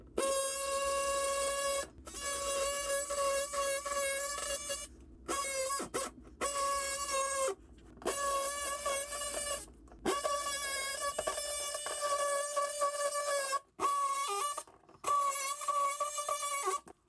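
A power tool cuts through a wall to open it up around a toilet water supply line, giving a loud, steady tonal whine in repeated bursts separated by short pauses.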